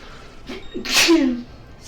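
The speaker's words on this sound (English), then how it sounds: "Sorry about the sneeze." One sharp human sneeze, close and loud, with a quick intake of breath just before the burst, then quiet.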